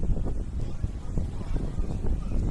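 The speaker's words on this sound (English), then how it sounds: "It's all of a sudden got very windy." Strong gusty storm wind at a water park in San Antonio buffets the microphone in a steady low roar, rising and falling without a break.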